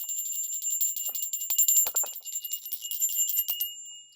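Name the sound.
moon bell rung to open a circle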